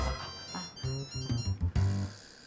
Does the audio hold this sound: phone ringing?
yes